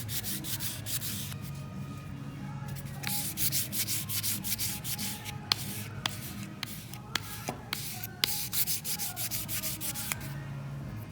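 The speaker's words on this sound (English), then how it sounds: "I'm going to take a fresh 280 grit sandpaper stick and I'm going to sand it till I get the brass showing nicely" A fresh 280 grit sandpaper stick sands a copper and brass inlay in steady, close back-and-forth strokes, with a continuous gritty rasp broken by a few sharp ticks.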